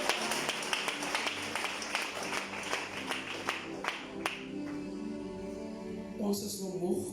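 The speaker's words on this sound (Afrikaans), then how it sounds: "Kan u vir jouself aan die hande klap gee." Church congregation clapping hands, a rhythmic series of sharp claps in a steady beat for several seconds that fades out, followed by a brief burst of noise.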